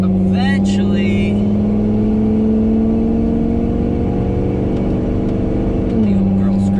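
A mobile welder's pickup truck engine runs loud and close, holding a steady drone before a brief rise in pitch near the end, with a few faint squeaks early on.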